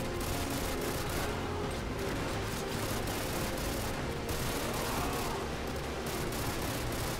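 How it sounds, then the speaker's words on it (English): Gunfire in the video game Call of Duty: Modern Warfare 2 during a drive-by: dense, rapid automatic bursts rattle continuously and loudly with brief gaps, no speech over it. "Shoot them, Bryce, shoot them!"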